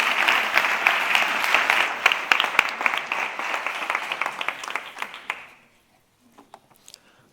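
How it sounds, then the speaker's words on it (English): Applause from an audience at a project presentation event, a steady patter of many hands clapping for about five seconds, then fading out abruptly to near silence with a few faint stray claps. "So please give a big applause to Guillermo Martín"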